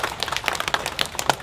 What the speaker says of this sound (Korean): 우리 동아인 여러분들 박수 한번 쳐주시면 감사하겠습니다.